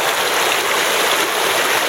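Creek water rushing steadily through a rebuilt brick dam, a continuous close, dense broadband wash with no pauses and no voices.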